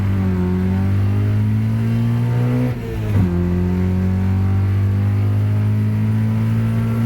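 A Honda Civic EK with an H22A engine pulls hard with a loud, steady climbing engine note. The drone dips briefly at a gear shift and then rises again, with no one talking.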